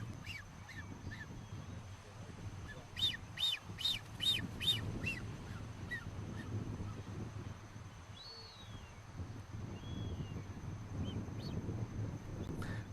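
A pair of birds calls in the Galapagos: a quick run of loud, sharp cries around the middle, with a few fainter calls scattered before and after over steady wind and low background rumble.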